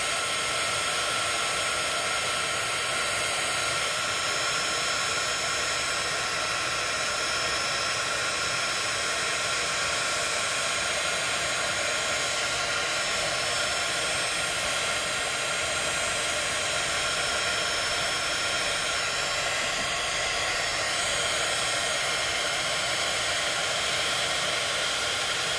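A heat tool blows hot air over embossing crystals, a constant loud whooshing hiss like a hair dryer, close and unbroken throughout.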